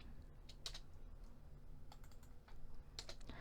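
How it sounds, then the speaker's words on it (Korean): Keystrokes on a computer keyboard while entering accounting data, a sparse, quiet series of light clicks with a few sharper taps such as the spacebar, close and without talk. "스페이스바 눌러서 빈 공간으로 두시고요"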